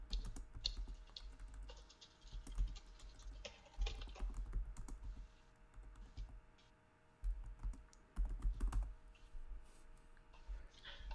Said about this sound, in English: But as we have the background noise of Francisco typing